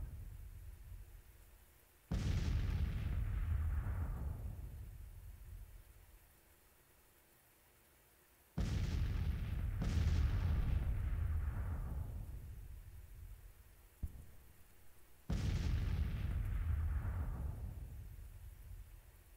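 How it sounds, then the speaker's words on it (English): Civil War artillery cannons fire explosive shot in the strategy game Grand Tactician: The Civil War: four booming blasts roughly three to five seconds apart, each a loud broadband burst rolling off into a long fading rumble, with no talk. "Open up on the artillery with some explosive shot."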